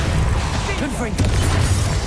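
The Confringo fire spell detonates in the Hogwarts Legacy video game amid a fast spell-casting combat sequence, a dense, roaring burst of blasts and crackling over a low rumble, with a voice casting over it.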